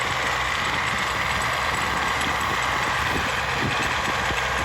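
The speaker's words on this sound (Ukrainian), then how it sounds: "Трактор працює" A tractor engine idles steadily and continuously, with a low rumble and a broadband hum, and no voices are heard.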